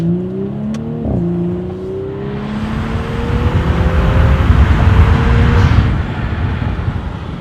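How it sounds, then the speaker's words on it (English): An Audi S4 B9 fitted with a Unitronic intake revs up, its turbo spooling with a rising whine and whoosh over a climbing engine note, loud and close, swelling to a peak before settling, with no talking. "You hear the turbo spool up, you hear it exhale"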